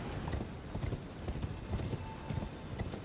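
Horse hooves clopping in the video game Elden Ring, a steady rhythmic beat of hoof strikes at a moderate pace, fairly faint under a dense wash of game ambience.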